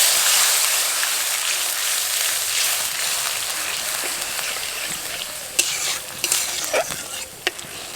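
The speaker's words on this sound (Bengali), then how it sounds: "জলটা ফুটতে শুরু করেছে।" Half a bowl of water has been poured over fried spices in a pan and is starting to boil. A steady hissing sizzle is heard, with a few sharper pops and clicks toward the end and no talking.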